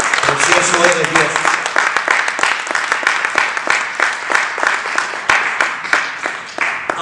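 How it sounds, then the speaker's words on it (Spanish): Congregation in a church service applauding steadily, a dense wash of many hands clapping throughout, with a voice speaking over the applause at the start. "Den un aplauso al Señor."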